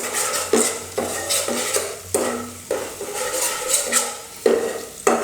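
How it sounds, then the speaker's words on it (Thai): Utensil scraping and clinking against a pot while ingredients for a clear Thai pork-bone and bamboo-shoot soup are stir-fried over low heat, repeated rhythmic stirring strokes with soft sizzling beneath, close and moderately loud, no talking. "ใช้ไฟอ่อนค่อยๆผัดไปเรื่อยๆครับ"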